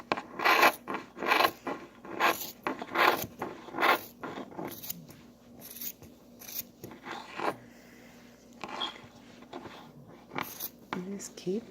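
Repeated short snipping and rasping cuts of all-purpose scissors through fabric fringe, close up in uneven bursts, with soft rustling between strokes.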